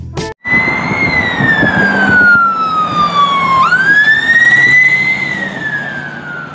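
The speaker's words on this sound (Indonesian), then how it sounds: "Di sini ada mobil ambulan." A loud wailing siren sweeps slowly downward, then jumps back up and rises again, with a brief thump at the start and traffic rumble beneath.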